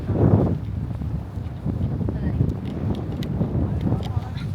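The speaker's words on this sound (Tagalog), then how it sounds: "Lakas ng hangin" Strong wind buffets and roars across the microphone in gusts while walking from Al Sadd to MIA Park, with low rumbling bursts and faint voices in the background.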